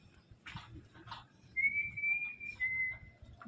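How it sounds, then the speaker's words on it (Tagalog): A person whistles a single sustained, slightly wavering note, fairly close, while walking along a forest canopy walkway, with soft footsteps and rustling before and around it. "Sipol-sipol lang, ano?"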